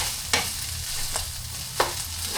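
Garlic frying in a pan, a steady soft sizzle broken by a few sharp scraping stirs of a utensil, heard close with no talking.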